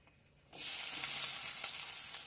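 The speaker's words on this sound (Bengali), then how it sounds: "পেঁয়াজটা দিয়ে একটু নাড়াচাড়া করব, একটু লালচে ভাব করে নেব পেঁয়াজটা নাড়াচাড়া করে।" Chopped onion hitting hot mustard oil with whole garam masala and a bay leaf, a sudden loud sizzle that starts after a quiet half second and keeps crackling steadily with a few stirring scrapes.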